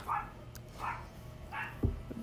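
A dog barks in the background, three or four faint, spaced yelps repeating at a steady interval under a quiet indoor room tone.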